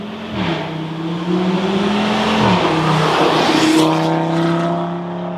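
An Audi RS3 passes on an uphill drive-by, its engine loud and close, revving through rising pitches with gear changes as it accelerates past.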